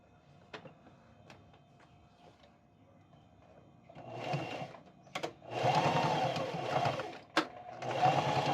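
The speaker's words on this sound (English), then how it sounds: "take it to your sewing machine and sew across a few times to make sure that it is secure" A sewing machine whirs in short bursts of rapid stitching across a dog collar, close and fairly loud, with pauses and small clicks between runs.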